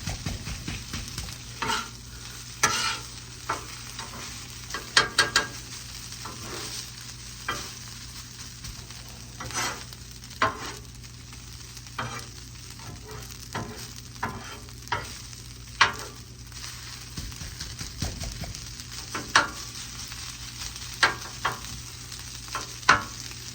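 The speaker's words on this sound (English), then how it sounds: "Go on and incorporate our onions in" Onions being stir-fried into fried rice in a pan: a low background sizzle broken by repeated scraping stirs and clanks of the spatula at an uneven rhythm, with no talking.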